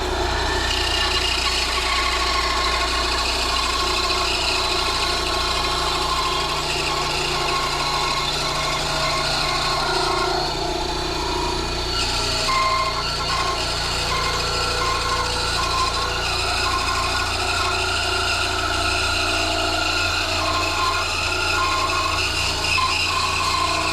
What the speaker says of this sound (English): I'm not the best on a bandsaw.